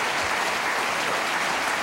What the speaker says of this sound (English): People always applaud that.